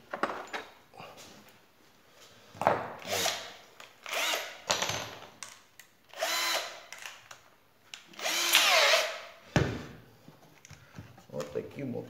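A power tool drives screws into a wooden base in several short bursts of whirring, each a second or two long, with pauses between. Someone talks quietly between the bursts.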